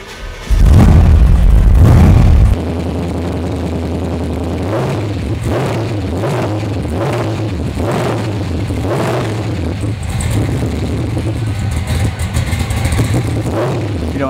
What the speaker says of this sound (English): Just want to go ahead and start this up for you.